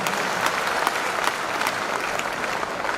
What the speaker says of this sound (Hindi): ताली बजा लीजिए, ये फाइनल है सर।